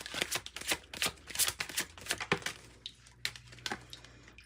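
Tarot cards are shuffled and drawn in a quiet room: rapid crisp riffles and flicks come in close, irregular bursts, followed by a few softer taps and slides as cards are laid down.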